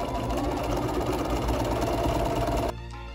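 Sewing machine stitching a folded hem on a pillow backing: steady, fast mechanical whirring hum runs continuously for nearly three seconds, then abruptly stops, close and fairly loud with no talking.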